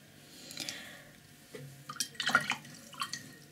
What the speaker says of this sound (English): I wash my brush